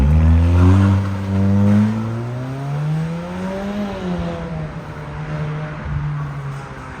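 A Cupra Leon's performance exhaust kit roars as the engine revs up and drops back, a loud, throaty growl close by, rising and falling in pitch.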